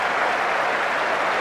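Brisbane cricket crowd at an Ashes Test applauding, a dense, steady roar of clapping from a large stadium audience filling the brief moment.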